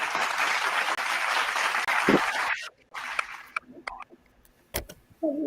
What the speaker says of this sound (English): let's give them some claps